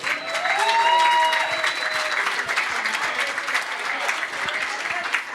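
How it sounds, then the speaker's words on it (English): Audience applause for speakers at a roundtable event, a steady crowd of clapping hands sustained throughout at moderate volume, with scattered voices and cheers mixed in. "give a round of applause for the ladies."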